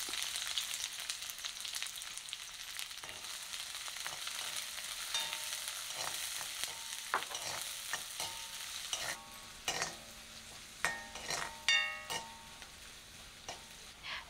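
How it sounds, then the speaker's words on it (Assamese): Chopped onions fry in hot mustard oil in a wok, softening with a soft, steady sizzle, then a spatula scrapes and stirs in sharper clinking bursts toward the end. "এতিয়া কেৰাহী এখন গৰম কৰি তাতে মিঠাতেল গৰম কৰি লৈছোঁ আৰু কাটি ৰখা পিঁয়াজখিনি দি কোমল হোৱালৈকে ভাজিছোঁ"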